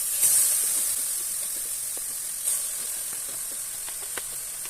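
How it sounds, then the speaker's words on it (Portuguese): Gas stove burner running at full flame while making tomato jam, a steady high airy hiss with faint sizzling crackles and occasional small clicks, quiet and continuous with no voices. "Agora o bico do fogão está no máximo."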